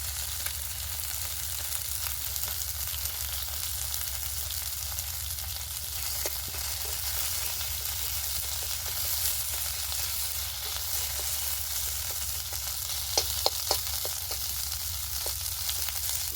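Ground ginger-cumin paste with chilli and turmeric powder sizzles steadily in hot oil in a pan, a continuous close frying hiss with occasional sharper crackles and spatters, no voices.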